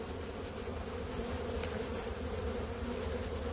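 Honey bees buzz from an opened hive during spring build-up in Michigan, making a dense, steady drone that stays level and fairly soft throughout, with no talking.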